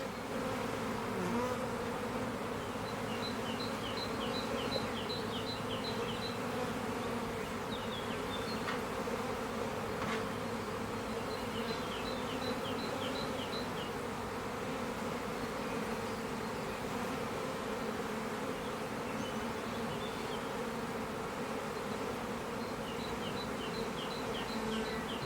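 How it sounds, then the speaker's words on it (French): Honey bees buzz steadily on hive frames in an Italian apiary while honey supers are set on the hives. A dense, continuous hum fills the whole stretch at an even loudness. "Les abeilles se tiennent bien sur les cadres"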